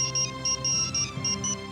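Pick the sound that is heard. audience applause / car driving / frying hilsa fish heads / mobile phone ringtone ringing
mobile phone ringtone ringing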